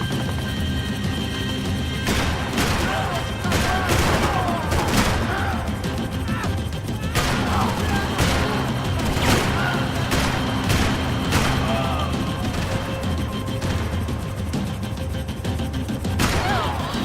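Dense gunfire from the Max Payne 3 video game on PC: continuous loud shooting with clustered bursts and impacts over a constant background of noise, with no pause.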